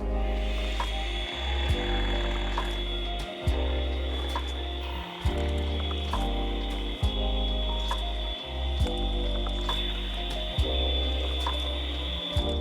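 Chocolate loaf cake batter with flour and baking powder is mixed thoroughly, producing a steady mechanical whirring with regular pulsing beats, close and loud, with no speech.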